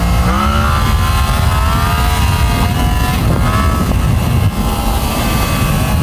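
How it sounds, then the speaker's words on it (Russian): Motorcycle engine pulling hard on full throttle in second gear, a loud continuous roar with rising harmonic tones throughout, close and steady with no talk over it. "На второй передаче открываю газ."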